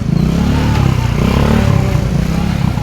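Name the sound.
motorcycles passing on narrow street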